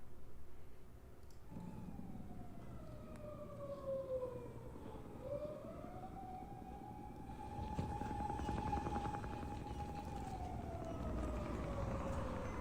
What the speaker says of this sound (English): Still hear the sirens going crazy